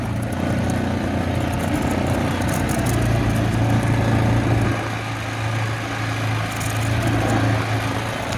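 A Yamaha Grizzly four-wheeler with a strong mid-pitched engine drone, climbing a hill in two-wheel drive. The engine runs loud and steady under load throughout, with slight changes in its note.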